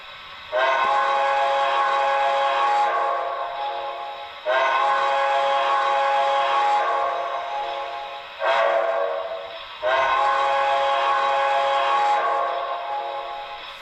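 A model New York Central Hudson locomotive's horn blows in four bursts, three long blasts and one short, loud and close, with brief pauses between them.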